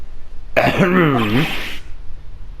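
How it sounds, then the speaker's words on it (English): A single drawn-out, exaggerated throat clearing lasting about a second, loud and close, then quiet. "Maybe I should clear my throat."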